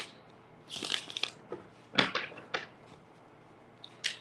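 Tarot cards being shuffled give short, close rustling and riffling bursts, separated by brief pauses, quiet and with no talk over them.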